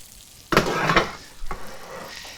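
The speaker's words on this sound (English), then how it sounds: "Gives it a reassuring sizzle that it is actually hot." Breaded pork schnitzel drops into hot oil and bursts into loud, close sizzling, with a second crackling surge a moment later as more pieces go in, then settling into a steady fry.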